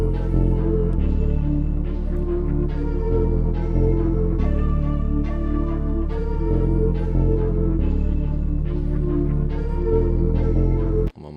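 Dark UK drill beat built in FL Studio 21 with a deep sliding 808, drill drums and layered orchestral textures including an Anvil from Hell sample, playing loud and continuous without any talking.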